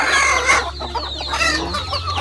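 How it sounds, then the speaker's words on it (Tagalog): Native chickens cluck and squawk nearby in short bursts on a farm in Glan, Sarangani, with a rooster-like call mixed in over a low background hum. "Sana yung mga manok dito katambayan."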